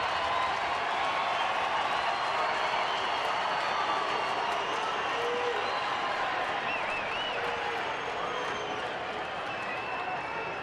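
A baseball stadium crowd at a Cincinnati at Arizona game in the top of the ninth inning, roaring and applauding steadily, loud and dense throughout with no single voice standing out.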